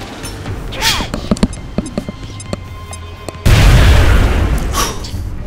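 A grenade explosion in XCOM: Enemy Unknown comes as a sudden loud, sustained blast of broadband rumble that follows a few earlier thuds and pops.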